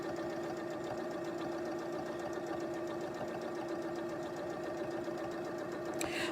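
A sewing machine runs steadily while stitching the side seam of a pillowcase, a continuous rapid mechanical whir with even rhythm, close and moderately quiet, ending with a small click.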